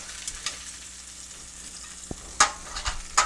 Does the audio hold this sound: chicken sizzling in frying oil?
yes